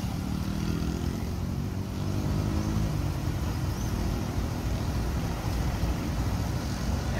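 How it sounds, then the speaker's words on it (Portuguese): A steady, loud rumble of motorcycle engines droning continuously on a street in Campina Grande, with wind-like noise over it and no pauses. "Essa barulheira todinha aí das motos, eu acho que tá dando para escutar"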